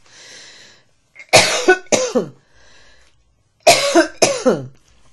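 Two pairs of harsh, close coughs, each pair separated by a quiet pause with faint breathing between.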